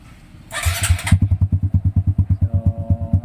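A Honda XRM 125 motorcycle is started with a short whirring crank, then its single-cylinder engine catches and runs in a fast, even, close putter.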